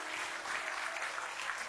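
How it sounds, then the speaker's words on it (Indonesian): Faint, distant applause from a church congregation, a brief steady patter of many hands clapping. "Kasih tepuk tangan yang paling meriah buat Tuhan kita."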